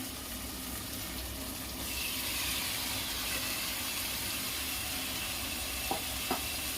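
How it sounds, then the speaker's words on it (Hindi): Marinated jackfruit goes into a hot pan of fried garam masala, onion and tomato and is stirred, producing a steady broad sizzle with a couple of light utensil knocks near the end, close up with no talking. "अब मैं कटहल जो मैरिनेट होने के लिए रखी हूँ उसे डाल रही हूँ"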